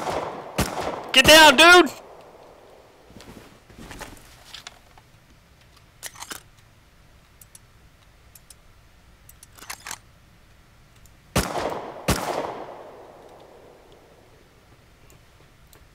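Bursts of gunfire in the survival video game Rust, a rapid volley at the start and another cluster later, loud and close, separated by long quiet stretches, with a voice shouting briefly between them.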